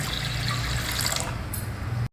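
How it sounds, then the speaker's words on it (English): Milk poured into a kadai that already holds a little water, a continuous liquid stream splashing and gurgling up close, stopping briefly near the end. "Next I am adding about half the quantity of this milk."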